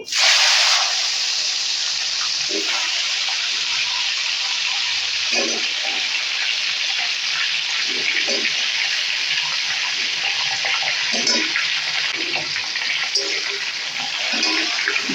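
Salted, turmeric-coated mango pieces go into hot frying mustard and chilli, setting off a loud, steady sizzle that hisses on without a break.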